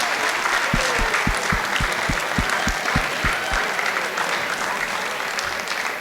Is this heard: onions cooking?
no